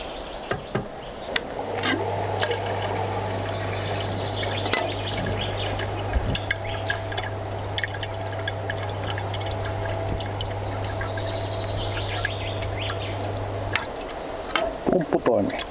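A home brewing system pumps about 27 litres of water while brewing spruce sprout ale, giving a low, steady electric hum for most of the stretch, with trickling, pouring water and occasional clicks and knocks around it.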